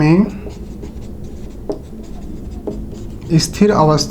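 A pen scratches out a definition on a surface, with short strokes and taps heard under a man's speech.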